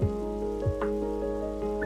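Rain falling at a gas station in the video game Rest Area Simulator, a constant soft patter under steady humming tones from the game, with no voices.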